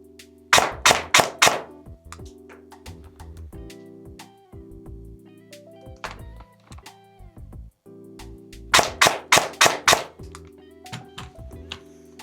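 A Specna Arms Daniel Defense SA-P27 Prime airsoft rifle firing two quick bursts of four or five sharp snapping shots each, close and loud, with mechanical clicks and handling noise between them.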